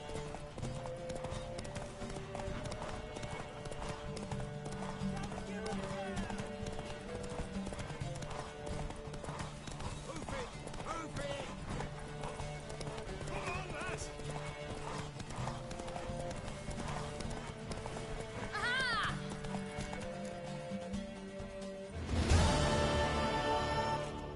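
A horse gallops with rapid, steady clip-clop hoofbeats, and a loud, shrill neigh comes near the end, against faint background music.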